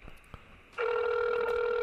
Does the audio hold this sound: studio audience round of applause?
no